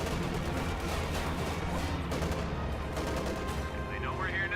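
Machine gun fire in the video game Company of Heroes 2, dense continuous rattling bursts amid battle noise, with some voice-like game chatter mixed in.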